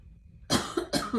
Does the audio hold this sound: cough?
yes